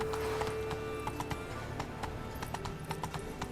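Horse galloping in The Witcher 3 video game, with a rapid, steady clip-clop of hooves and a brief whinny, heard close up with no voices over it.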